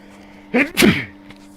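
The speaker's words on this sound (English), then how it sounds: "got a sneeze" A single sharp sneeze, close and sudden, with a short intake of breath before it and quiet afterward.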